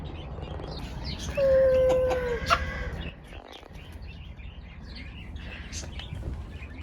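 A chicken clucks nearby with a strong, drawn-out call, then quieter clucks, while small birds chirp faintly in the background.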